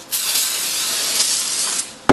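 A single continuous spray of Maxima contact cleaner from an aerosol can hisses for about two seconds, close and bright, ending with a sharp click.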